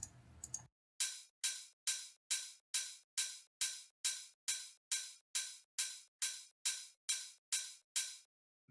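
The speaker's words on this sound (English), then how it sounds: "this second hi-hat here kind of gives the main open hi-hat a bit more body" Two layered offbeat open hi-hats in a trance track, sounding together in an even, steady pulse of bright, sizzling metallic hits with short decays, after a brief snippet of other sound at the start.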